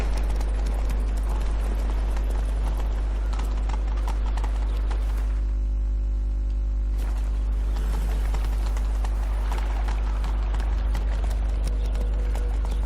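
Horse hooves clip-clop steadily on the ground in the video game The Witcher 3, a regular close rhythm that pauses briefly midway over a constant low hum, with no speech heard.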